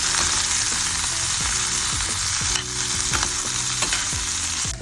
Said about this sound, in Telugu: ఇంత మాత్రం ఫ్రై చేయాలి